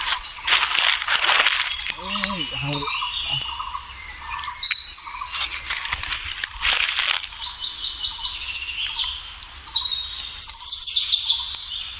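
Parrots call near their nest in the jungle in short chirps and squawks scattered through the stretch, over a steady hiss of forest insects, with a brief rustle or flutter early on.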